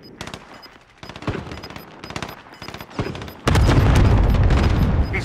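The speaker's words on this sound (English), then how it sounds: "Allied cluster strike inbound." Warzone video game combat: rapid gunfire bursts crackle and pop, then a cluster strike sets off a dense, loud rumbling barrage of explosions that continues to the end.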